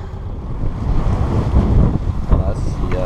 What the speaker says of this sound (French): je viens d'hisser la grande voile et on part